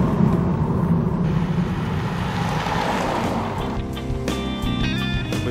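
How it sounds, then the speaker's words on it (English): Audi A5 Cabriolet with a 2-liter diesel engine driving with the top down, a steady broadband rumble and rush of wind throughout, with tonal engine notes rising near the end. "the 2-liter diesel is absolute fun, and all you do is downshift and just go"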